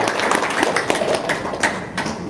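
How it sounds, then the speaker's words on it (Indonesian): An audience applauds at an RDAY healing talk, a steady patter of many hands clapping for a couple of seconds at moderate volume, fairly close and unbroken. "Sekali lagi dong, tepuk tangan dong."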